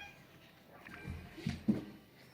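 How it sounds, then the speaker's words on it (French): A faint, short cat meow in a quiet room, with a brief second cry right after. "Désolé pour le chat, parce que le chat ça fait un petit peu de bruit"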